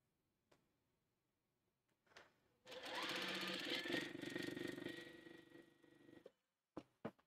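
A sewing machine stitching strips for a jelly roll race quilt runs in one loud steady whirring burst of about three and a half seconds, with a few clicks and thumps before and after.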